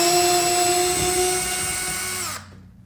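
A Litheli U4 compact 4V cordless drill spins at a steady high-pitched whine close by, then cuts off and spins down near the end.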